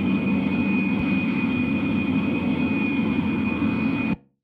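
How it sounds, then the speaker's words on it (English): A steady airplane engine drone inside an aircraft cabin in the Pink Panther Passport to Peril game, with a constant low roar and a thin high whine that stop abruptly at the end, and no talk. "The aircraft will be moving shortly."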